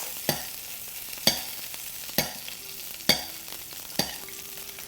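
Coho salmon sizzles steadily in a hot pan, fillet skin side down, while spoonfuls of hot fat are basted over the flesh side, giving about five sharp, evenly spaced splashes over the continuous frying hiss, close and fairly quiet.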